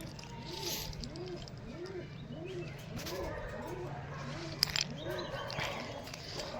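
Pigeons in a pigeon loft coo in a steady, repeating rhythm of soft rising-falling calls, close by over a faint background hum, with a brief sharp knock partway through.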